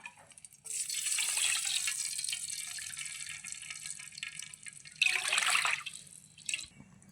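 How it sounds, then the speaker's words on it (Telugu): Two cups of water pour into a pan on a lit stove for semiya kesari: a long, steady, close splashing rush, then a shorter second gush near the end, with no talk. "ఇప్పుడు స్టవ్ వెలిగించుకొని ఒక రెండు కప్పులు వాటర్ పోద్దాం"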